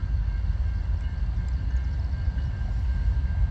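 Norfolk Southern freight train rolling past: a steady low rumble of wheels and cars, moderately loud and continuous, with a faint tonal hum above it and no voices.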